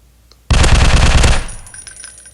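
Rapid burst of pistol gunfire in a survival first-person shooter game, a loud dense volley of shots lasting about a second, then fading into quieter game ambience.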